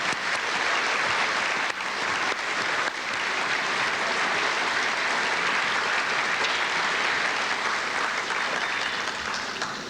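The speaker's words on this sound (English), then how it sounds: "Let's give them a big round of applause," Graduation ceremony audience applauding award and scholarship recipients, a dense, sustained roar of many hands clapping at steady volume for the full stretch.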